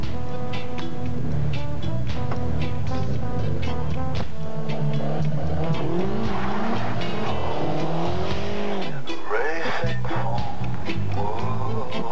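A Ford Thunderbird drives past in a TV commercial, with engine revving and tire squeal heard loudly under a music bed.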